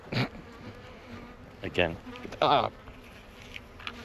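Honeybees buzzing around hives, short close buzzes as single bees fly past, loud bursts with quiet gaps between them, and someone speaks briefly.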